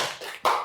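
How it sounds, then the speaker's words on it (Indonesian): Children in a primary-school classroom give a classmate a quick burst of clapping, close and fairly loud, with a short dip and then a fresh surge of hands. "Tepuk tangan untuk temannya."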